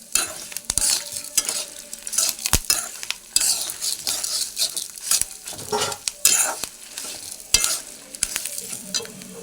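A spice mixture for chili powder is stirred and fried in a pan, with steady sizzling broken by repeated scraping clinks of a spoon against the metal, close and fairly loud.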